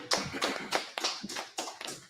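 Hands clap in quick irregular bursts, close and fairly loud, with a sharp tapping quality and no talking over it.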